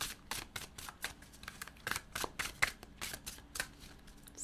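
Tarot cards are shuffled by hand, a quiet, close series of crisp riffling flutters in irregular quick bursts.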